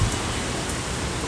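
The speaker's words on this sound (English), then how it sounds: "and it's now raining." Steady rain falling outdoors, a dense even hiss of drops on surfaces with no distinct thunder, continuous and moderately close throughout.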